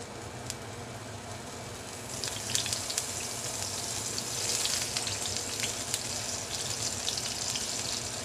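A steady, crackling sizzle of potatoes frying in hot grease, with occasional sharper pops and no talking.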